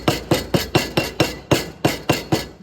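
A ball peen hammer taps around the holes of a part being fitted to a Massey Ferguson 1250 tractor engine, ringing out about ten sharp, evenly spaced metallic strikes, close and loud with no talk.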